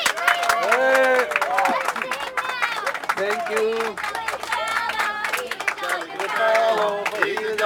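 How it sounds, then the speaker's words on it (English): Scattered clapping and cheerful crowd noise at a farewell gathering for a departing colleague, light applause mixed with lively chatter and loud overlapping voices nearby, with someone speaking a short thanks. "Big round of applause for Mr. Joshi, please."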